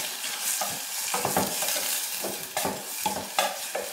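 Small chopped pieces of bitter orange (narthangai) sizzle and fry in a pan while being stirred and scraped with a spoon, a close, busy crackle with irregular stirring strokes over about four seconds and no talking.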